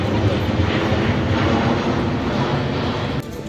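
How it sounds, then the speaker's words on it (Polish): A loud, low roar of an airplane passing close overhead near Burgas airport, a broad rumbling wash that drops off abruptly near the end. "Ale samolot nisko leci."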